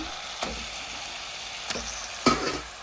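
Chicken fries with ginger garlic paste in a pan with a continuous close sizzle, and three short scraping stirs break through it, the last the loudest, with no voices.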